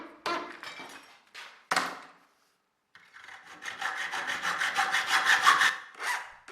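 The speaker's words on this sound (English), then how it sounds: "and cut it off with the hacksaw" A hand hacksaw cuts through a 1/4 inch bolt in rhythmic back-and-forth rasping strokes, a few short bursts and a pause before a longer, steadily building run of sawing, close and alone.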